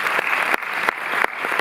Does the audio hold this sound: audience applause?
yes